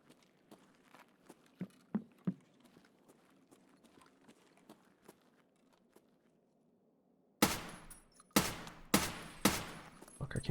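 Escape from Tarkov gunfire sounds as four sharp, loud shots in close succession near the end, following a stretch of faint footsteps and scattered clicks.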